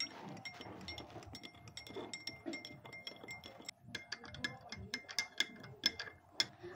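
A spoon stirs a sugar and black salt mixture, giving a steady run of close scraping and gritty ticks, then brighter sharp metallic clinks against the container, fairly quiet and without speech.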